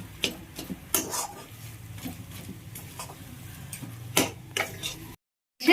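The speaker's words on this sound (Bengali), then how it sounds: "ভালো করে মিশিয়ে নিলেই আমার পুরটা রেডি হয়ে যাবে।" A spoon stirs and scrapes a semolina sandwich filling in a bowl, giving close, irregular clinks and scrapes with short pauses, then a brief silence before one last knock.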